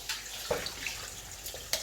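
Tap water runs in a kitchen sink while raw chicken is rinsed before cooking, a soft, continuous splashing with a few small splats and drips, fairly quiet and close.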